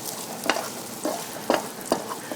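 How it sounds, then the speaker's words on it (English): Bacon fries in a pan, a constant close crackling sizzle with a few brief louder scrapes and stirs at roughly half-second intervals. "You want to cook your bacon."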